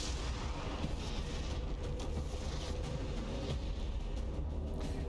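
Video game Psy Bomb attack blast, a dense rumbling barrage of explosive bursts that rolls on continuously and loudly, layered crackles and booms with no voices.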